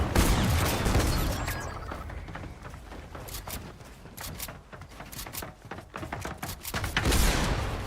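Rapid bursts of gunfire in Fortnite crack out in dense, irregular volleys, close and loud, with thuds and impacts mixed among the shots and little talk over them.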